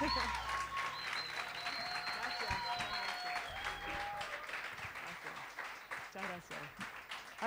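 A live bar audience applauds a singer, a sustained wash of clapping under a talking voice and lingering sustained musical tones, growing slightly louder toward the end.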